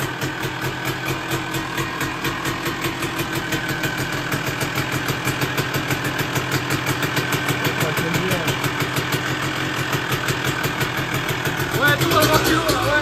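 Motorcycle engine idling steadily right after a first-kick start without choke, a close, even, throbbing rumble that continues throughout with a brief louder rev near the end.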